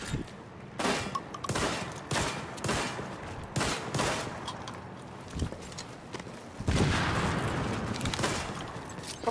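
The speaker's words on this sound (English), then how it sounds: "Somebody shooting me." Rapid bursts of gunfire in the online shooter The Division, repeated volleys and single shots at moderate distance, fairly dense through the whole stretch with a louder burst near the end.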